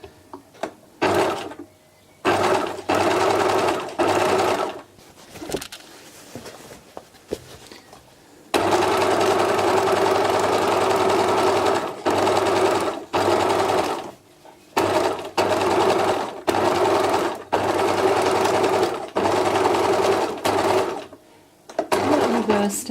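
Domestic sewing machine stitching fabric for a beach bag, with steady mechanical whirring bursts of varying length separated by short pauses, close and loud.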